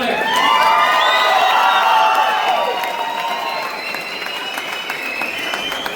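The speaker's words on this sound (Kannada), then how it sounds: "ಬರಲಿ ಇನ್ನೊಂದ್ಸರಿ ಜೋರಾದ ಚಪ್ಪಾಳೆ." An audience at a Bharatanatyam classical dance performance bursts into applause, with shrill whoops and cheering voices rising over the clapping. The sound swells early and then eases to a lighter, sustained ovation.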